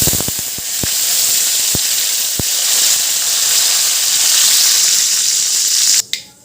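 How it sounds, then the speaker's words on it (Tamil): Mustard seeds and curry leaves splutter in hot oil, giving several sharp pops early on over a loud, constant frying hiss that continues steadily before cutting off abruptly near the end. "இப்போ கொஞ்சமாக கடுகு போட்டுக்கலாம். கடுகு, கருவேப்பிலை கொஞ்சம்,"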